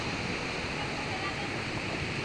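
Ocean waves roll and crash at a viewpoint above the water, a steady, dense wash of surf filling the whole stretch with no clear breaks between swells.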